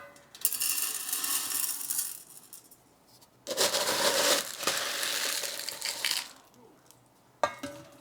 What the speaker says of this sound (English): we're going to put the layer of stones at the bottom